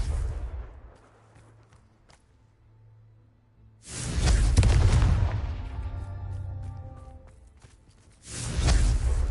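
Confringo blasting spells in Hogwarts Legacy burst in loud, booming explosions with a whooshing crackle, two big blasts rising and decaying several seconds apart after a quieter rumble.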